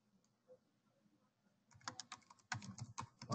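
Computer keyboard keys tapped to enter a password, faint at first, then a quick run of close, crisp clicks in the last half.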